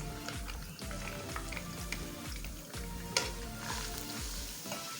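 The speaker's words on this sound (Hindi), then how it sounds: "तो अब इसमें डाल देंगे जिंजर गार्लिक और उनको थोड़ा सा सौटे कर लेंगे" Ginger and garlic sauté in plenty of hot oil in a kadhai for chana dal, with a crackling sizzle and rhythmic spatula strokes scraping every half second or so, close and steady.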